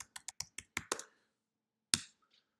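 Typing on a computer keyboard to enter a search, heard as a quick run of about seven crisp, close keystrokes followed by a pause and one final louder key press.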